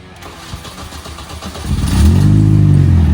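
An R53 Mini Cooper S fitted with a cheap aftermarket exhaust and burble sleeve fires up, its engine catching and settling into a loud, deep, steady rumble close by, with no one speaking.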